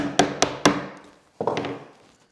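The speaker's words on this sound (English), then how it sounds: "grab your chisel like a fist. Come into that line, like so." A chisel cuts a wood shoulder for a chair, three sharp evenly spaced knocks followed by a pause and a softer scraping cut, close and clear with no talk.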